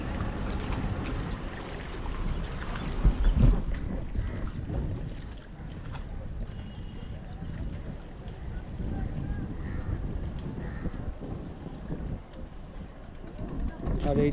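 An Indian customs speed boat runs on the water at Namkhana jetty ghat, its engine a steady rumbling drone under wind buffeting the microphone, with people talking over it.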